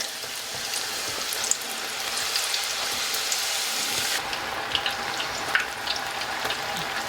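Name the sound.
vegetables deep frying in hot oil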